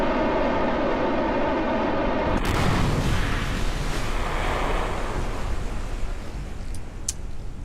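A spacecraft in Kerbal Space Program splashes down in water: a steady roar of rocket thrust cuts to a sudden burst of crashing, surf-like wash that slowly settles, followed by two faint clicks.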